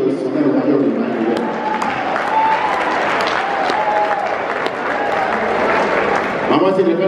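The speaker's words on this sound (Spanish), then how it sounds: "vamos a dar un aplauso a mi amigo de sonero mayor, mi maestro" A salsa concert audience applauds and cheers loudly and steadily for the orchestra, while a voice and faint musical tones carry over the crowd.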